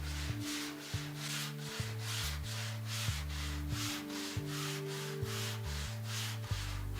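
Gypsum plaster filler on the large elements of a rose bas-relief is sanded by hand in steady back-and-forth rubbing strokes, about a dozen in a row, close and even, over a low steady hum.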